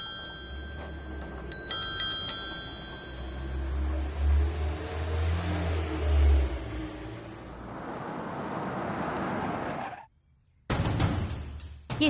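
A car engine rumbles steadily at low pitch on the move, with faint chime-like tones early on, then the noise cuts abruptly to near silence as the vehicle stops, followed by a brief return of sound.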